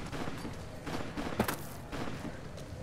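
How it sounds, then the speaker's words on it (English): Ongoing shootout in Fallout: New Vegas in Freeside: irregular, overlapping shots and bursts of moderate loudness, with one sharper crack near the middle, over a busy background. "Can y'all stop shooting?"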